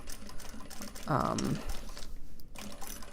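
A sewing machine runs in one short burst of about half a second, stitching Japanese fabric for a cell phone purse, a quiet whirring rattle amid low room sounds.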